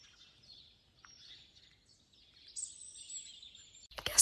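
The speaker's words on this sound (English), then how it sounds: "listening to the birds" Birdsong and chirps at a Paris fountain in the early morning, several birds calling softly at middle distance, with a louder, sharper call rising near the end.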